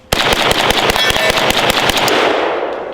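A Zastava M72 light machine gun fires a long, fast burst of sharp, loud reports from a Bulgarian magazine, the shots evenly spaced before the echo fades out.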